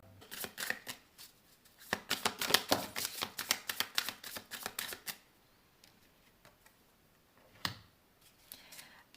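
Oracle cards riffled and shuffled in quick bursts of crisp, papery flicks, dense for about five seconds, then a few sparse taps and one more sharp riffle near the end, close and fairly quiet.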